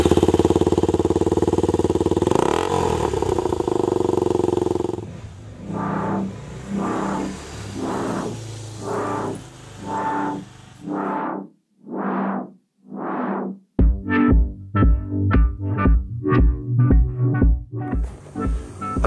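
A 2005 Yamaha TTR 250 dirt bike fires up for the first time after repair work, with loud engine bursts, a short pause, then a steady run of rapid, regular pulses close to the mic.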